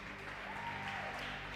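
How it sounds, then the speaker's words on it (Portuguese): A crowd at a church youth event applauds in a steady, faint wash of clapping with no break. "uma salva de palmas para vocês"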